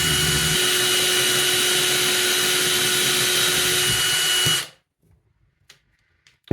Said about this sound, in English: I'm just going to literally just holding the drill steady, start off slow and then speed up